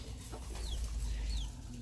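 A bantam hen with a chick gives soft clucks and a couple of thin rising chirps, faint and close against a low rumbling background.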